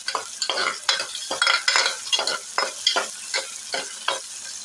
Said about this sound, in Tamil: ஒரு வெங்காயம், 2 பச்சை மிளகாய், கருவேப்பிலை போட்டுக்கலாம். இதை நல்லா வதக்கிக்கலாம்.